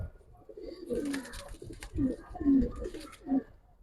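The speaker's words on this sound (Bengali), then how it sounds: "দেখেন কবুতরটা" A young Giribaz pigeon coos close by in several distinct low throaty bursts, each a short rolling call separated by brief pauses, with soft handling noise between.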